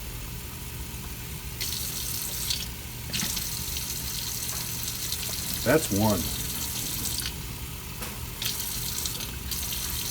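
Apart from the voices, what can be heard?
tap water poured into pancake mix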